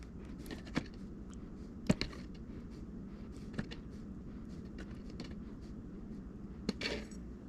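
Solid coconut oil scooped with a metal utensil into a container on a kitchen scale, giving sparse scraping and clinking taps at irregular intervals over a quiet background.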